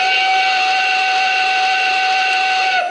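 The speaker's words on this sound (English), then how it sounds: "Getting tons of whistle steam." A Lionel PRSL H10 model steam engine blows its whistle steam, a loud steady multi-tone whistle over airy hissing that holds for nearly three seconds before fading slightly at the end.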